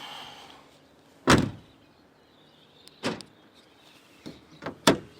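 A car's remote central locking system actuates the door locks in several sharp mechanical clunks spaced apart, each a quick thump from the doors against a quiet background.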